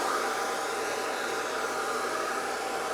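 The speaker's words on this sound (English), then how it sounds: "So that first part that I'm doing is just the pre-dry, where I'm just getting the moisture out of it" A blow dryer runs steadily at close range, pre-drying damp hair before an undercut styling, with a constant airy whoosh and no talking.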